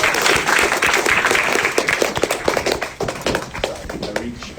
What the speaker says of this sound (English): Can you give a round of applause, guys?